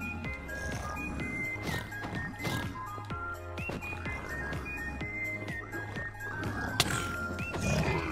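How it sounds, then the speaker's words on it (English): Piglins in a Minecraft bastion in the Nether grunt and snort repeatedly in overlapping bursts, close and fairly loud, mixed with game ambience and a few sharp clicks. "Can definitely hear a lot of pigs."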